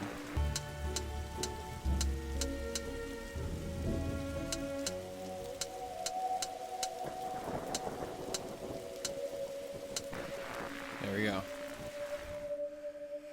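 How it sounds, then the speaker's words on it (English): Rain patters steadily through a stormy scene in The Darkside Detective, with low rumbling and a regular ticking pulse beneath a musical drone, fairly quiet overall. "Look, detective, the storm is dying out."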